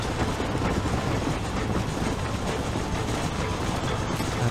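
A steam-era train rolls along in Red Dead Redemption, a steady, dense rumble and clatter that holds evenly throughout with no talking.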